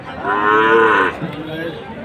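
A single long, loud cow moo close by at a cattle market in Pebbair, followed by a brief quieter lowing, with no talking.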